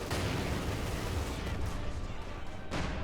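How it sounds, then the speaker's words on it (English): Dense gunfire in a 4v4 Company of Heroes 2 battle on the Steppes map, with Maxim machine guns and an MG42 firing. A dense, steady roar of shots and explosions persists across the whole moment, loud and continuous, with faint commentary underneath. "Maxim machine guns push forward, trying to get the upper hand on that MG42."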